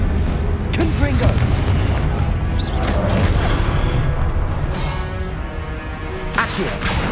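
Confringo blast spells exploding in Hogwarts Legacy combat: heavy booming bursts and crashes roll over a constant loud battle din, with a couple of sharp impacts standing out near the start and end.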